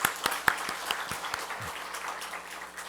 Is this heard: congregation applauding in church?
yes